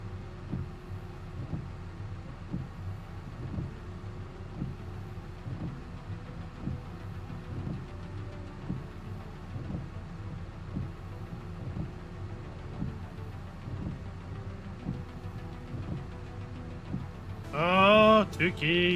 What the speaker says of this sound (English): Tuki's playing with his engine sounds again.